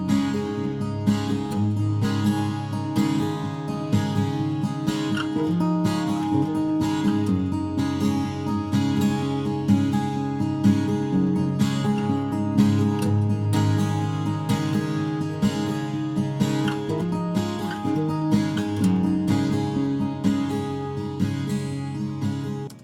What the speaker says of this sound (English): Together, those acoustic guitars sound like this.